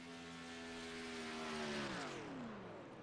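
A race car engine at Michigan International Speedway during the CHD 200 drones with a steady pitch, then its tone drops and winds down as it is shut off, heard from a distance.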